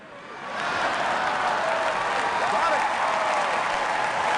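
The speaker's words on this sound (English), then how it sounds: "I bet you never thought Hillary would get an applause at this convention." Sustained convention-hall applause from a large Republican National Convention crowd, swelling in after a brief quieter start and holding steady, broad and distant-sounding, with faint cheers mixed in.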